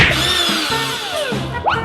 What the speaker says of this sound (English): Grab the appropriate size drill bit.